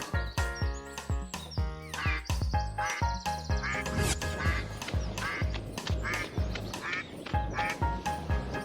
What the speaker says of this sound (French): Il y a des canards ici aussi.